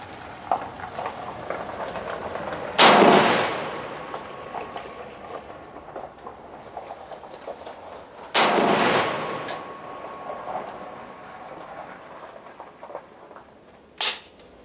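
A Southern Tactical CETME C rifle fires while being sighted in outdoors, two loud sharp shots each followed by a rolling echo, then a fainter third report, with no talking in between.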